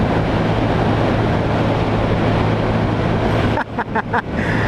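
A 2020 Honda Grom motorcycle runs at 7,000 RPM at full throttle into a headwind on a hot West Texas road. A steady engine drone sits under loud wind roar, which breaks into gusty buffeting near the end.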